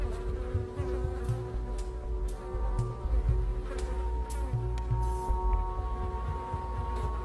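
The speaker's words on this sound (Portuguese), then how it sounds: "Em pouco tempo, a primeira mosca de estábulo ataca." A stable fly buzzing close by, a steady insect drone with small shifts in pitch as it moves, alone without talk.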